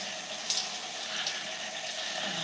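Running water rinsing product out of curly hair, a soft, steady close splashing stream with small bursts, no talk.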